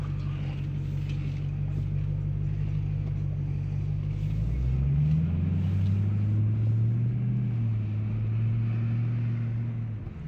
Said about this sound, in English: I just heard it shift through 2 gears. Did you hear that?